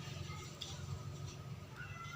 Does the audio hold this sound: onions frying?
no